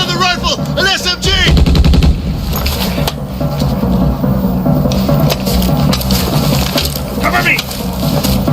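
Rifle and submachine gun fire in a film action scene rings out in dense, loud rapid bursts and single shots, continuing throughout with brief pauses, with shouted voices mixed in.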